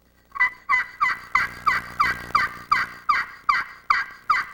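Turkey friction call with an aluminum surface, acrylic pan and sounding board, worked with a carbon-tipped striker, makes a close, loud run of about ten high, raspy yelps in a steady rhythm.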